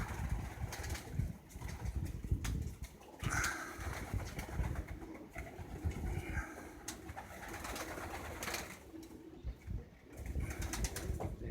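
Young pigeons coo softly and repeatedly inside a loft, with occasional wing flaps and rustling among the birds. A faint engine hum sits in the background, and no one speaks.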